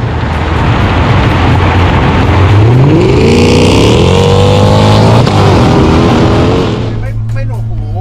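A 2008 Mercedes-AMG C63 with a naturally aspirated V8 and aftermarket exhaust tips revs loudly up through rising engine notes, then settles back to a deep idle, with talk alongside.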